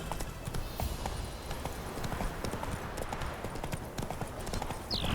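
Hooves of Roach, a horse in The Witcher 3, clop rapidly and steadily in a galloping rhythm, moderately close, with a faint whinny near the end.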